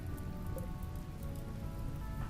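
Soft, even patter of rain falling in the video game RimWorld, a steady fine hiss of drops with no voices, holding constant throughout the brief stretch.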